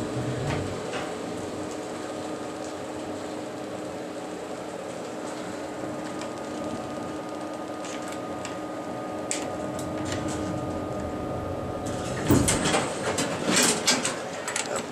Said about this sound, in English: here's the service elevator